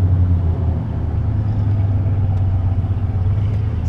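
An old manual-transmission car pulling away in second gear, heard from inside as a steady, loud low engine drone with a constant rumble and no talking.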